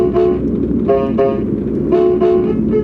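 Electronic keyboard set to a piano voice but running on a weak battery plays a few short, reedy, horn-like notes in uneven bursts over a constant low hum and hiss.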